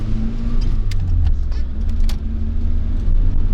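Steady low engine rumble and road noise from inside a moving Proton Wira, a continuous drone with a few faint rattles and clicks.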